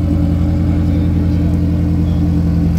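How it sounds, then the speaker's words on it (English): Close and loud, a Mazda MX-5 Miata race car's four-cylinder engine idles in a steady, throbbing rumble in the Watkins Glen paddock. "Now we're listening to one of the Miatas."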